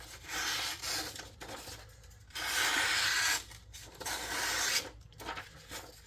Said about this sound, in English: Let me get out an old takeoff sheet and we'll see how she slices.